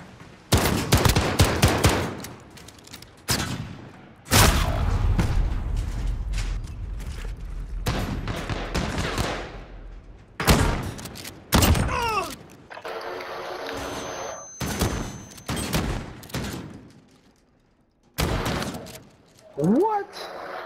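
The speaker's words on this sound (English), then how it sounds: "Gunfire." Bursts of automatic gunfire in Call of Duty: Modern Warfare, loud rapid volleys separated by short pauses, with voices speaking between them.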